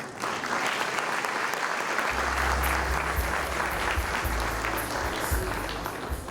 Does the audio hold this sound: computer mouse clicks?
no